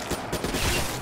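A short, dense burst of rapid gunfire in Black Ops 3 zombies mode, loud and continuous for about a second with no talking.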